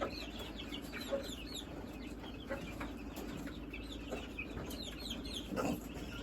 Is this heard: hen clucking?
yes